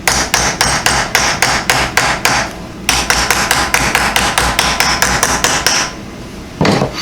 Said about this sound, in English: So this hammer is basically just to take out the unevenness of our last hammer.